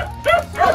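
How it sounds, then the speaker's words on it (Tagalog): Two short, close dog barks or yips in quick succession, loud and sharp, with no other sound between them. "Ingay ng aso dito guys"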